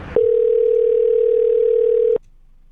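A telephone tone sounds while calling Heather, a single loud steady beep held for about two seconds, starting and stopping abruptly, with quiet line noise after it.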